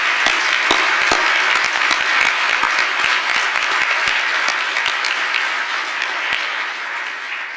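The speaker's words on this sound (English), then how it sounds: "Can we have another round of applause for our new citizens?" Sustained applause from an audience at a naturalization ceremony for new citizens, dense steady clapping with a few sharp nearby claps standing out, gradually easing toward the end.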